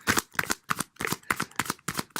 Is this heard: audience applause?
no